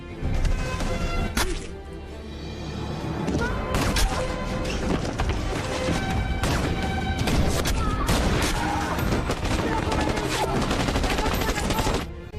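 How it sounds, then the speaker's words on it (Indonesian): A film war scene in the Iran–Iraq war carries dense gunfire as a sniper fires on Iranian soldiers, with rapid volleys, sharp cracks and booms layered over loud battle noise, with voices mixed in. "Dia menembak tentara Iran dengan membabi buta hingga menewaskan Ismail"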